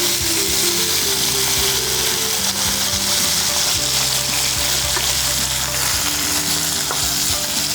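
Round brinjal pieces fry in a hot pan with a steady, loud sizzle, with occasional clinks and scrapes of stirring throughout and no voices.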